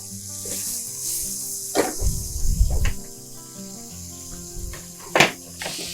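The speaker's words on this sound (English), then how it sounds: "have very crispy bacons and don't burn them" Bacon crisps and crackles in a frying pan, a steady sizzle with sharp pops and a few louder spattering bursts, close up and without speech.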